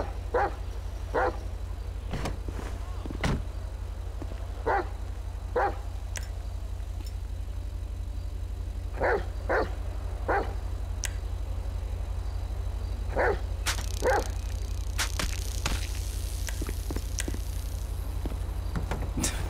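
Dog barking inside a police roleplay video game, with sharp, separate barks repeating in short bursts over a steady low engine drone, some barks loud and close, others fainter; no talking.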